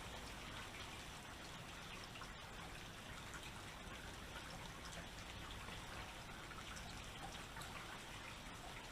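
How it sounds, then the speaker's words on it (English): Heavy rain pours steadily in California, a dense, even wash of drops and splashing water with no pauses. It stays fairly faint and distant throughout, with no talking. "You see how much it's pouring."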